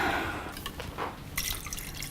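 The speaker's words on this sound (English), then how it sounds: "And then water, I need to put the water in." Water poured into a pot for Japanese home cooking, a short burst of splashing and dripping in a kitchen, close and fairly soft.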